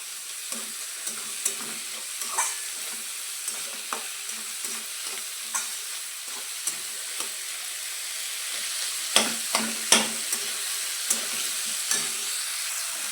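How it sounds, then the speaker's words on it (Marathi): Bread kutke tempering sizzles in a pan as a spatula stirs it, the frying hiss continuous while regular scraping knocks recur every second or so, with a few sharper clatters near the end. "मस्त अशी फोडणी आता भाजलेली आहे"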